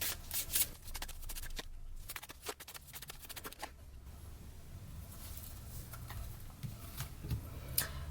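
Tarot cards being shuffled close up, a steady run of soft riffling flutters and quick papery taps repeating for several seconds at a quiet level.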